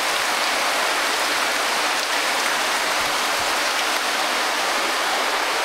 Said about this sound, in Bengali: খুব জোরে বৃষ্টি, মুষলধারে বৃষ্টি হচ্ছে।